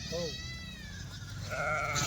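A Kathewadi sheep bleats at close range, two wavering calls at the start and end, while someone talks over a low background murmur.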